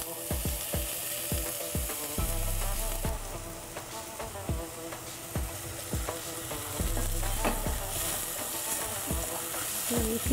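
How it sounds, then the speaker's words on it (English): Onion cooking in a pan for a red bean curry gives a steady sizzle and crackle, broken by repeated scraping stirs and clatters of a utensil against the pan. "We are going to cook the onion for about 4 to 5 minutes till it starts sweating, a little tender and translucent."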